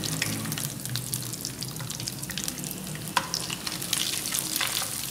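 Crushed chili and turmeric fry in oil over a low flame for a fish curry, giving a steady close sizzle with light scraping and stirring clicks throughout and no voices.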